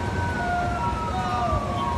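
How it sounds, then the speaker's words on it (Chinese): A fire engine siren wails with long sweeping tones as it arrives at a blazing tin-sheet factory fire in Hsinchu, heard at moderate distance over a rumbling street background. "消防车来了。"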